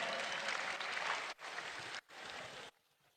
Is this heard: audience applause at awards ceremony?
yes